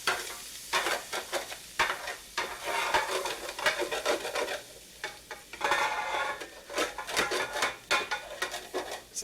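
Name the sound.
scraping browned hamburger and rice from pan bottom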